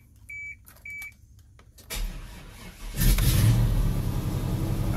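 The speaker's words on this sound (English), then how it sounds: "We're gonna show a cold start." A cold Chevy scissor-lift dump truck engine starts: two short dash beeps, a few seconds of cranking, then the engine fires and settles into a loud, rough idle right beside the exhaust.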